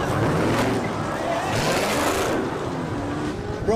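A Dodge Charger with a 6.4-litre Hemi V8 roars loudly and continuously on a highway during a police chase, with a steady dense rumble that swells and eases, while people talk over it.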